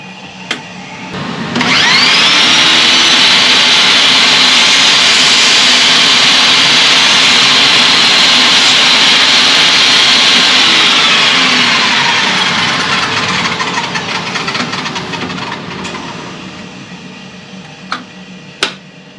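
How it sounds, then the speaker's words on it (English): A table saw fitted with a crosscut blade squares off the end of a wooden ukulele fingerboard blank held in a miter gauge, spinning up to a loud steady whine for about ten seconds and then winding down slowly, with a couple of sharp knocks at the end. "I'm just going to put it in a miter gauge and I'm going to square it off using a crosscut blade."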